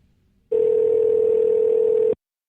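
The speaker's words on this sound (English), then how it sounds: "Now we have ringtone." After a moment of quiet, a single steady telephone tone sounds clearly for under two seconds, then cuts off into silence.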